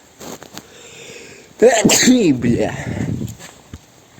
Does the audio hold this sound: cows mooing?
no